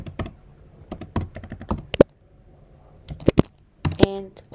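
Keys tapped on a computer keyboard while entering Python code, in short irregular bursts of crisp, close clicks separated by brief pauses, with no talking.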